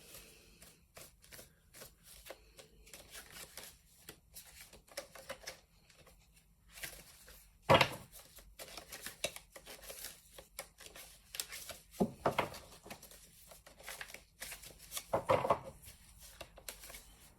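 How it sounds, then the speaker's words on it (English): Soft riffling and tapping of playing cards being shuffled, with a few sharper bursts of cards riffling together, quiet and close. "Let me shuffle this other deck."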